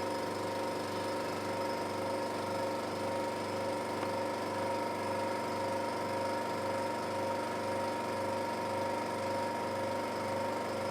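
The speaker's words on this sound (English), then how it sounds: "In this condition, turn the vacuum pump." Vacuum pump running steadily on a desiccator during a rapid chloride permeability test in a lab, a continuous loud mechanical drone with an even pulsing hum and no pauses.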